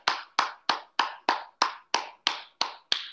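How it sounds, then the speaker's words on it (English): Ten sharp, evenly spaced hand claps ring out in a steady rhythm about three per second as a group claps together during a rain-making activity, close and clear with no voices. "Clap your hands."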